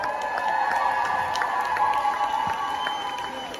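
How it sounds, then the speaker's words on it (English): A crowd at an outdoor vegan festival reacts to an introduction from the stage, a broad, moderately loud mix of clapping and cheering voices over a steady hum. "Big round of applause for this guy"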